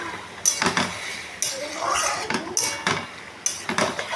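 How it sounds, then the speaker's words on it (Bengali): Spices and oil stirred in a cooking pan for a dahi dish, with a utensil scraping and clinking against the metal in repeated bursts, close and fairly loud, and brief pauses between strokes. "এবার হচ্ছে একটু নাড়াচাড়া করবো"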